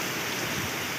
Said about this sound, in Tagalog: Ngayon bumakbak ng ulan.